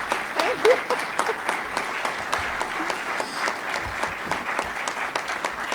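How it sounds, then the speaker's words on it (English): Sustained applause from a crowd at a Virginia child welfare event, giving Ryan steady, dense clapping throughout with faint voices underneath. "Can we please give a round of applause for Ryan?"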